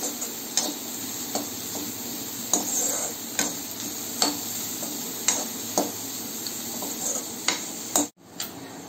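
Carrot and capsicum cooking in a pan for white sauce pasta, with a steady sizzle under a series of scraping stirring strokes and light utensil taps, fairly close, with no talking.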